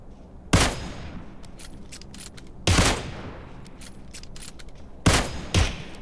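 Gunfire in the PUBG Mobile video game: three sharp, loud shot bursts spaced about two seconds apart, each with a ringing decay, then a fourth quicker shot right after the last, with faint clicks between them.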